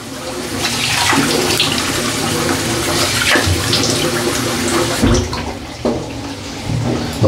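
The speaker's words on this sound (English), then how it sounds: "Cold rinse, cold rinse." Tap water runs for a cold rinse during a wet shave with a safety razor, a loud continuous splashing gush with uneven surges and brief splashes of hands in the stream, no talk.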